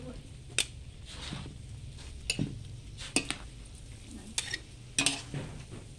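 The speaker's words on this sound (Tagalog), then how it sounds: "Hahaluin lang natin ang gulay," Pechay greens being stirred in a pan with whole peppercorns and bay leaf, soft scraping and a few light clinks of the utensil against the pan over a faint sizzle, quiet and close.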